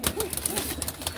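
Pigeons cooing in a loft, with low rolling coos repeating close by, several overlapping calls in quick succession and no talk.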